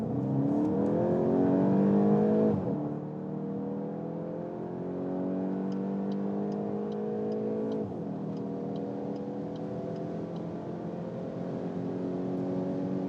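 Volkswagen Golf GTI 8.5 accelerating hard in sport mode, engine note rising steadily through two gears with a brief dip at the shift, loud and sustained, toward about 200 km/h.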